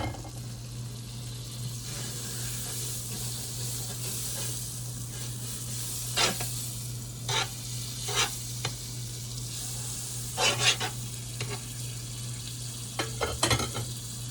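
Butter sizzling in an extra non-stick pan while crêpes are made, a low steady hiss under a faint hum, broken by several sharp scraping and clinking bursts near the end.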